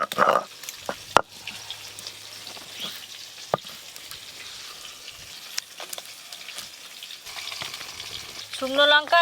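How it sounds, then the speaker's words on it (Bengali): Rohu fish pieces coated in salt and turmeric fry in hot oil, a steady close sizzle with occasional stirring clatter and sharp knocks, growing louder and more crackly at the end. "ভালো করে লবণ হলুদ মাখিয়ে নিয়েছি, এবার ভেজে নেব।"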